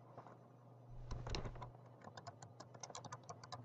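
Fingers tap rapidly on a computer keyboard at close range, with a quick burst of keystrokes followed by a steady run of evenly spaced clicks, faint and without talking, as text goes into a PowerPoint slide.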